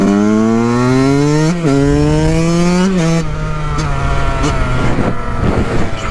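A Yamaha YZ 125 two-stroke dirt bike engine revs hard and close, its buzzing pitch climbing and dropping through several throttle blips during wheelie practice, loud and continuous with no talk.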